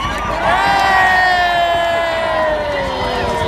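A huge outdoor crowd at a pro-life rally in Dublin cheers and whoops loudly and continuously. Many voices blend into a sustained roar, with rising shouts and whistles carrying over it.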